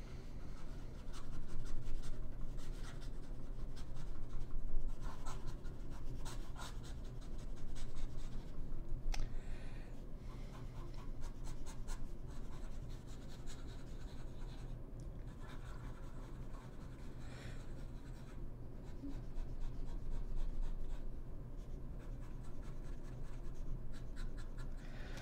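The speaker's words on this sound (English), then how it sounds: "fast writing." An Aurora Optima fountain pen with a sharp edged nib writing fast on paper, a steady close scratching of quick strokes going on without a break and with no voices.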